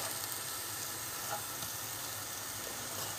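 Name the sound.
onions frying in sunflower oil on medium heat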